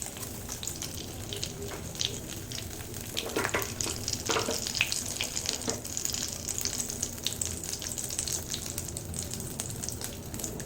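Bay leaf dropped into hot oil in a pan for a Bengali mushroom kosha, giving a steady close frying sizzle with some louder spitting bursts near the middle, no talk.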